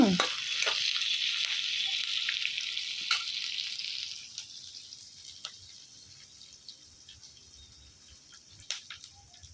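Tempering for a Telugu tomato curry fries in hot oil in a pan over a husk-fired stove, a steady close sizzle with scattered crackles and the scrape of stirring that eases off partway through.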